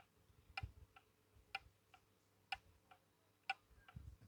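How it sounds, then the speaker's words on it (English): Antique Ansonia kitchen clock ticking out of beat, its ticks falling in uneven pairs with a limping rhythm, close and quiet in a still room. "It sounds like it's ticking with a limp."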